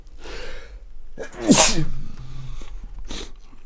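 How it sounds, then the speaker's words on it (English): A single loud, close sneeze bursts out over a quiet room background, preceded by a sharp inhale and followed by faint breathing. "Sorry about the sneezing."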